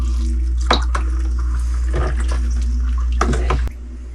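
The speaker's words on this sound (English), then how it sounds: "Now we're going to stir this up." Crabapple wine must with added yeast stirred in a fermenting vessel, liquid sloshing and swishing close by in several uneven strokes under a steady low hum that drops near the end.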